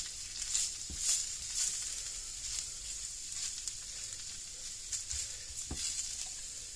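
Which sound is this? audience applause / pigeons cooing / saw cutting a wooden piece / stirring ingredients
stirring ingredients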